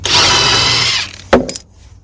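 A power tool undoes a bolt on the lower suspension control arm of a Volvo XC60, a loud steady whirr for about a second, then a brief burst of mechanical clatter that quickly stops.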